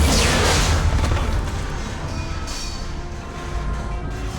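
A bomb explosion in Mass Effect 3, loud and booming at the start, then settling into a long rumbling decay with debris-like crackle.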